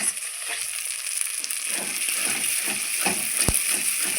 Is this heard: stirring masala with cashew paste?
yes